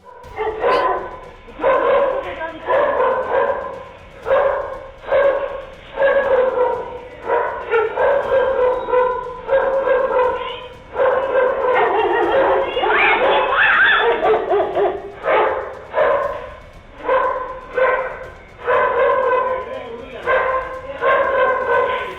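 A German Shepherd barks steadily and loudly nearby in a residential street in Tambaram, a long run of repeated woofs in an even rhythm, with a short spell of whimpering yelps partway through.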